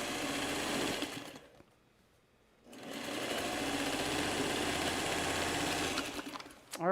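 Sewing machine stitching the final seam of quilt blocks, a fast steady mechanical whirr that pauses briefly near the start and then runs on, close and clear with no talking.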